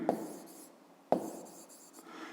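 Pen writing on paper during a maths exercise: two short, crisp scratching strokes about a second apart, close and quiet with no talk.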